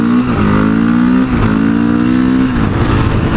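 A Honda CRF450SM supermoto engine revs hard and steadily for a wheelie, loud and close, with the pitch climbing then dipping briefly at two gear changes before pulling up again.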